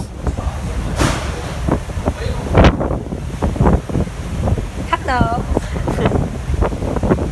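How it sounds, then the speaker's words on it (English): Gusty wind buffets the microphone on a ferry from Santorini to Naxos, with rough bursts of noise over the engine's hum while someone briefly speaks. "It's been a windy ride"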